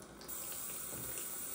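Water runs from a kitchen sink tap as a silicone art doll is rinsed, a faint, steady splashing stream that begins abruptly and continues alone.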